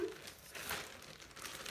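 Thin plastic mailer packaging holding a skirt crinkles and rustles as it is pulled open, a soft continuous crackle close to the ear with a sharper burst partway through, no talking over it.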